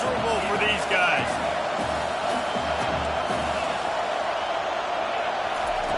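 Steady stadium crowd roar fills an NCAA Football 25 broadcast of a Georgia Bulldogs game, a constant wash of distant crowd noise sitting under play-by-play commentary.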